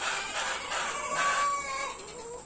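Chickens cluck and a rooster gives a drawn-out crow, fairly close, over a soft outdoor background.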